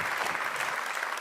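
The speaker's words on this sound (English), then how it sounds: "I want a warm applause for Lorenzo Savadori" Audience applause at a MotoGP team presentation for Aprilia Racing, a dense, steady burst of clapping from a live crowd, brief and fairly loud.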